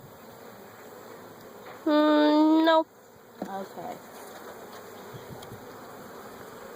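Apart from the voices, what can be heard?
bees buzzing around a beehive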